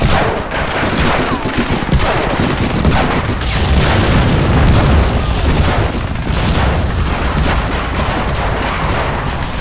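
Relentless covering gunfire mixed with booming explosions in the World War II game Medal of Honor: Frontline, dense loud rattling and blasts filling the whole stretch without letup.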